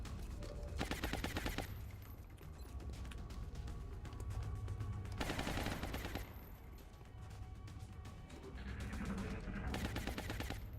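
Bursts of gunfire in XCOM Long War, loud rapid volleys of automatic shots in several waves with short quieter gaps between them.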